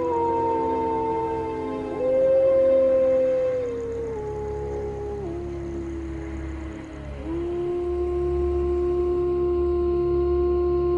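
Wolves of Yellowstone's Druid Peak pack howl in a sustained chorus, several long gliding voices overlapping and shifting pitch, fairly loud and close, with no talk over them.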